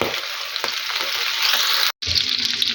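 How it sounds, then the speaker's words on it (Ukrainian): Steady, busy sizzling of chicken liver patties frying in a pan, close up, with a brief cut to silence near the end before the crackle resumes. "Все, і смажимо."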